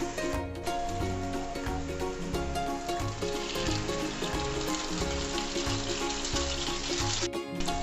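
French toast slices frying in a pan over a medium-low flame give a steady, close crackling sizzle that runs the whole time, with music playing alongside.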